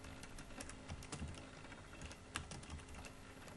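Rapid typing on a computer keyboard while entering item names for a Java program, a steady run of close, light key clicks with a few sharper strokes.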